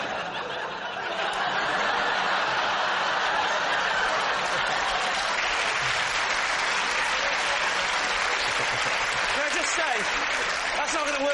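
A television panel show studio audience bursts into sustained, loud applause mixed with laughter and chuckles, the clapping swelling after a quiet start and staying dense to the end, with voices audible in the crowd.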